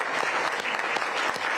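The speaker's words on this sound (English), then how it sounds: "let's give another round of applause to the Powell players" An audience at a city commission kickoff event applauds the Powell players, a dense, steady clapping that fills the short moment at even loudness.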